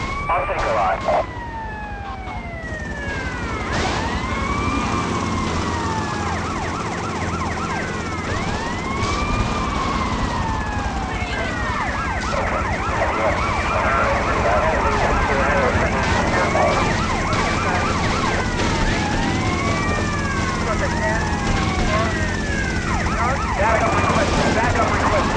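Police sirens wail in a video game as patrol cars pile into a demolition derby, several sweeping tones overlapping loudly and continuously over engine rumble for the whole stretch.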